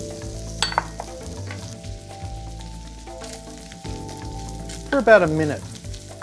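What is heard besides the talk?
shrimp and shiitake mushrooms frying in a pan for fried rice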